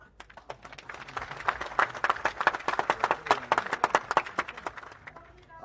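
A crowd at a Marathi political rally breaks into sustained applause, dense overlapping claps swelling to a loud peak and then fading, with no speech over it.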